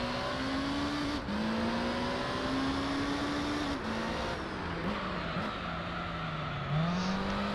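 Race car engines in Gran Turismo 3 during an endurance race on Special Stage Route 11, a steady high engine whine that rises and dips with gear changes, with a hint of tire scrub as the car slides.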